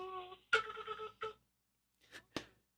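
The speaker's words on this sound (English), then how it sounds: "The phone is ringing." A telephone ringing during a live call-in stream, a short electronic ring with a clear harmonic tone followed by a few brief clicks and blips, close and fairly quiet with silence between.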